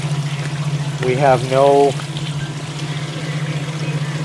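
Kenmore 80 Series washer draining water, a steady pump hum with a continuous trickling flow underneath, while someone speaks briefly over it.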